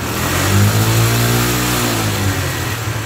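A worn motorcycle engine, smoking from internal wear, revs hard with a loud, close, rough roar, climbing and holding high before easing back, with no voices over it.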